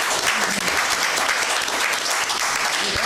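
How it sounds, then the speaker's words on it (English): An audience at a candidates' event gives a sustained round of applause, dense steady clapping lasting a few seconds with no talking over it. "Why don't we give our candidates a round of applause?"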